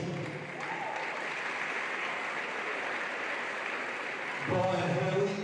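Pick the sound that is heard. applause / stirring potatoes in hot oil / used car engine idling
applause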